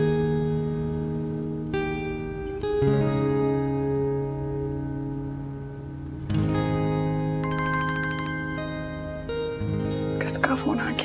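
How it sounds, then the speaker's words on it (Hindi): A phone ringtone plays loud and steady as a repeating electronic melody of clear tones, ringing on for several seconds with no talk over it, set in a Hindi-language drama scene. "किसका फोन आ गया?"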